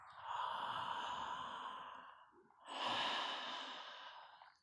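Slow, deep breaths during Hawaiian movement meditation: a long audible exhale, a brief pause, then another full breath, close and soft with no talk.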